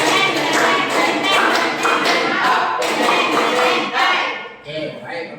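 A seated group in a classroom or workshop setting claps together in counted bursts, a run of sharp hand claps repeating in short groups, close and fairly loud, with voices mixed in.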